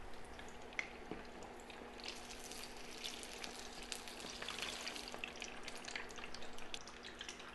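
Cornflake-coated cod frying in hot oil, a steady crackling sizzle with scattered pops and drips running throughout, close and fairly quiet, no voices.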